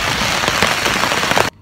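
Heavy rain pours down steadily and loudly in Odaiba, Tokyo, a dense continuous hiss of drops beating on surfaces that cuts off abruptly near the end.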